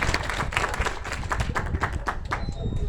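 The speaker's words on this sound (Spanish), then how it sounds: "Para quien pide un aplauso." Applause from a small audience at a press conference in Mexico, greeting an association representative; close, uneven clapping with distinct hand strikes, fairly loud and continuing throughout.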